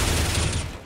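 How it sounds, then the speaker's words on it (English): A flashbang grenade bursts in a CS:GO match on the Overpass map, a loud, dense crack with a bright hiss that fades over about a second. "Oh, here's the flashbang."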